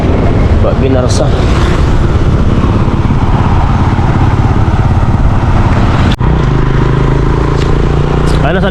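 A motorcycle rides through heavy typhoon rain in Bicol as Storm Leon arrives. A low engine drone rises out of the constant loud roar of rain and wind, strongest near the end.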